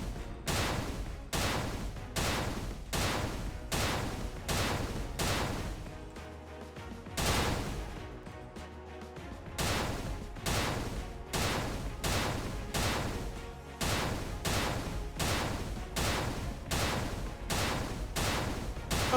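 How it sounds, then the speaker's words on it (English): Bombs exploding in the 2D action game TEVI, a rapid, steady barrage of loud blasts repeating roughly every half second, with a brief lull in the middle before the string of explosions resumes. "let's drop some bombs"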